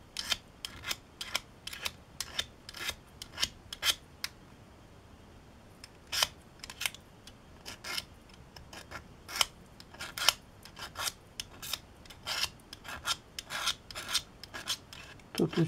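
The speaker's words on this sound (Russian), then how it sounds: "Чтобы не стирать острие, я скоблю вот этой гранью." A blade edge scrapes the enamel lacquer off copper wire in short, sharp, irregular scratches, with close dry rasping strokes in quick bursts and brief pauses between them.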